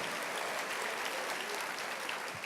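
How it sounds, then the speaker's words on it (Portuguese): A church congregation applauds during an evangelical service, a steady, dense wash of clapping that stays even and fairly soft for the whole stretch, with no voices standing out. "aplauda ao Senhor Jesus"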